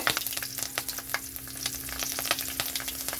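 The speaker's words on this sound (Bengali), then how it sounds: "এখানে কড়াইতে আমি গোটা সাদা জিরে আর কাঁচা লঙ্কা দিয়ে দিচ্ছি।" Whole cumin seeds and green chillies fry in hot oil in a wok, giving a dense, continuous sizzle with sharp crackles and pops, close and loud with no voices.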